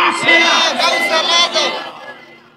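A large crowd at an Islamic sermon gathering shouts Marhaba in unison, a loud massed burst of voices that swells, holds for a couple of seconds, then fades out.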